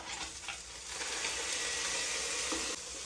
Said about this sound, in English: now I'm putting in some smoked sausage and I'm going to brown it up